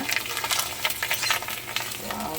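Papad frying in very hot oil, with a busy crackling sizzle and bursts of bubbling, plus a few soft scrapes as it is turned in the pan; close and fairly loud, with no speech.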